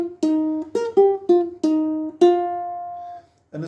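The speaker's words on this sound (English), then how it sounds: "Now the second riff is going to sound like this," Ukulele playing a song's second riff, a quick run of plucked notes leading into one long sustained note that rings out, played alone and close.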